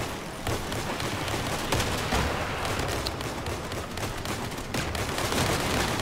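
Gunfire in the vehicle combat game Crossout, with shotguns among the weapons, forms a continuous loud barrage of overlapping shots and blasts that runs the whole way through, without a break.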